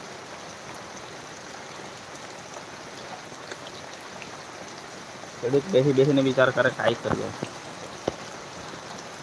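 Steady heavy rain hisses through the whole stretch of a village winter downpour, with a voice talking over it for a few seconds near the end.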